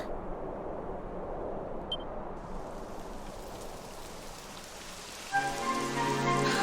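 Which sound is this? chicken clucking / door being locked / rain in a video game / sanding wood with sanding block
rain in a video game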